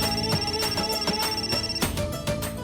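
A phone ringtone plays as a continuous electronic melody with rhythmic beats, fairly loud and alone, in a Hindi TV drama scene.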